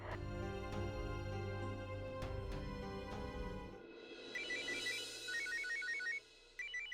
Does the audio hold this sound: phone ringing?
yes